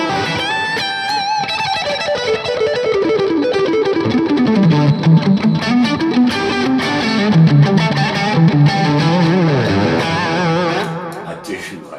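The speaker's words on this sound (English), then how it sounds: "It's got that 80s rock kind of distortion." Electric guitar played through a BOSS GT-1000 set to a British stack amp model, Marshall-like 80s rock distortion, with sustained chords and melodic lead lines ringing continuously and loudly for about eleven seconds before fading.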